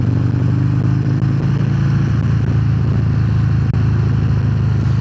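A Harley-Davidson Fat Bob 114 motorcycle cruises on a highway, its engine a steady, loud low rumble that is continuous and close, mixed with wind noise and no speech.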